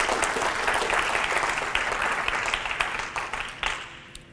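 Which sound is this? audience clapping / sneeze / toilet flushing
audience clapping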